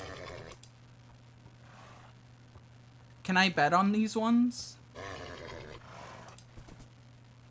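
Horses in the Minecraft block game give a loud, whinnying neigh with rising and falling pitch for about a second and a half, close by, with people talking before and after it.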